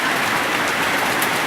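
Hail falls in Lebakbarang, Central Java, making a dense, steady patter of hard pellets striking surfaces, continuous and fairly close, with no voices.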